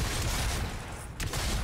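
In the roguelike game Fury Unleashed, a weapon that fires fewer but stronger shots lets off a dense, loud barrage of gunfire that fills the short moment with a brief dip partway through.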